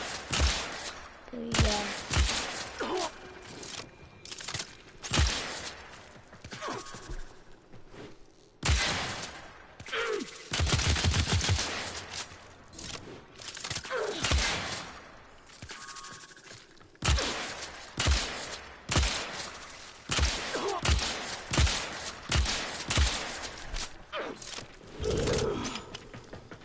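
Rapid weapon fire in Warframe comes in repeated bursts of shots with short gaps between them. It is loud throughout, with brief voice remarks mixed in.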